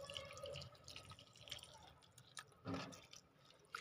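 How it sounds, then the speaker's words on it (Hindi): Water trickles and drips into plant pots filled with compost, faint and close, with irregular splashes and one louder gush near the end, no talk. "सो फाइनली हमने इसमें अच्छी तरीके से डाल दिया पानी"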